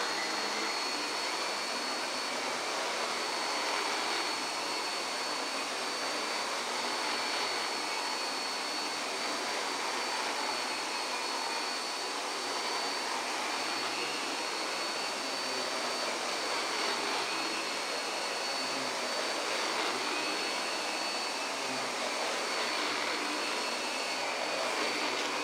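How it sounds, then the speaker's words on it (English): A Miele Earth vacuum cleaner runs steadily with its powered brush head switched on, a loud, continuous whirring roar with a high motor whine that holds without a break throughout. "I'll turn the powered brush head on"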